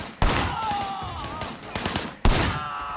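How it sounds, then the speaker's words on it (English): Gunfire rings out in the Sleeping Dogs video game as sharp, loud shots crack at around 0.2, 1.75 and 2.3 seconds, set over a steady backdrop of game ambience and music. "Shooting at the guys over there."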